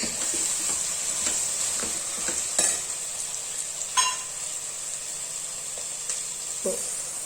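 Chopped onion dropped into hot tempering oil for an avarekalu usli, giving a steady bright sizzle throughout with a few soft stirring scrapes and clicks of a spoon, close and moderately loud.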